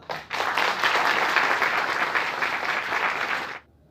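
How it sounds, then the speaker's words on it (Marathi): Audience applause at a Savitribai Phule birth anniversary event, a sustained burst of many hands clapping that holds steady for about three seconds, then stops abruptly into quiet; no talk. "तुमच्यासाठी टाळ्या वाजव"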